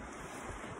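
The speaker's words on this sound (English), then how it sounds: "We're at the beach." Wind and waves at a beach, with a steady broadband roar of surf and gusty wind buffeting the microphone, brief and unbroken.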